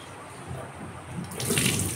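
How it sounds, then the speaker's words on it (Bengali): Rice is washed under running tap water, a steady close splashing rush that grows louder and brighter toward the end, with no talk over it. "চাল ভালো মতো করে ধুয়ে পরিষ্কার করে নেওয়া উচিত"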